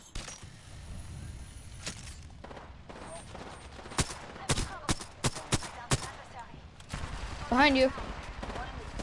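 Gunfire in the Apex Legends video game: a run of sharp, separate shots crack out at irregular intervals, mixed with game effects. Players talk over the action.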